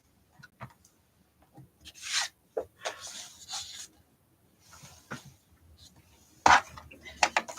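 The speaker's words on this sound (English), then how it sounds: "Fold and burnish the 2 score lines." Fold score lines on a handmade card are burnished, short dry rubbing and scraping strokes in irregular bursts with quiet gaps between them, close up.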